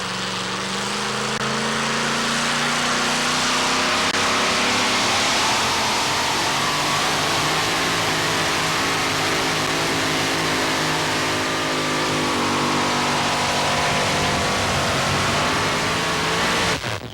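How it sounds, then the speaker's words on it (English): A 575 cubic inch all-aluminum-block Aries racing engine in a two-wheel-drive pulling truck roars continuously at high load, loud and sustained with a rising, straining pitch through the run, joined by broad crowd and track noise. "296 and 3, about a 575 cubic inch all aluminum block racing Aries motor."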